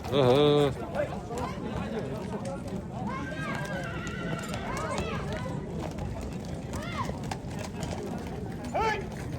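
A horse lets out a loud, shrill whinny up close at a busy horse market in Nookat. Hooves clop in the background amid crowd chatter and voices, and another fainter neigh comes near the end.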